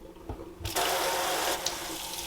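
A newly installed kitchen sink faucet turns on after a soft knock, then cold water runs in a steady hiss into the basin, close and fairly loud.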